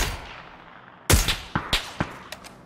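Gunfire from a competitive shooter video game: a sharp loud shot followed by several separate bursts of weapon fire at irregular intervals over a quiet background, with no talk.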